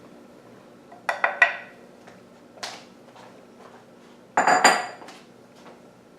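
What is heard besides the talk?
stirring brownie batter, dry ingredients into wet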